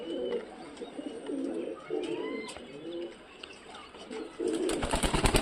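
Punjabi pigeons coo in repeated rolling bursts close by, with a few chirps between, ending in a louder rustling flurry.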